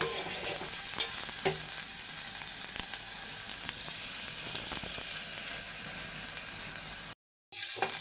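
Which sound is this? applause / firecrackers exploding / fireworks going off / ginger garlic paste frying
ginger garlic paste frying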